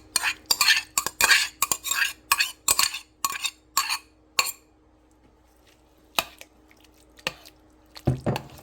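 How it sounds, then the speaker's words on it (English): Ground sausage is added to a pan and stirred for chili, giving a run of quick, fairly loud scraping and squishing strokes over several seconds, then a quiet pause before a few more stirs near the end. "Next, I'm going to go ahead and add in that ground sausage."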